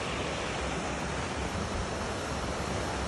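Stream water running high through a soft sandstone gorge in ancient woodland, a steady broadband rush with no breaks, fairly loud and close.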